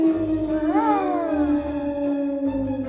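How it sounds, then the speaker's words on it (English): A werewolf's howl, a wolf-like rising and falling cry that sweeps upward and then slowly glides down over a steady tonal drone, sounding close and loud with no talk over it. "he turns into a huge, howling wolf"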